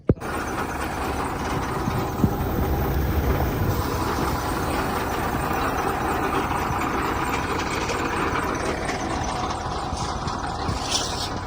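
A tractor engine runs steadily in a farm field, a loud, continuous rumbling drone that keeps going without a break for the whole stretch and never dies down.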